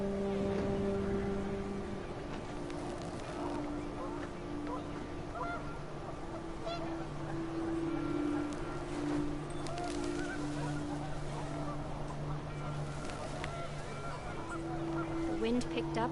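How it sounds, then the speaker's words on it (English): Panicked geese honk in the video game What Remains of Edith Finch as the wind picks up, a faint, overlapping chorus of calls over a constant windy background with a voice speaking faintly. "The wind picked up and panicked geese appeared and quickly went."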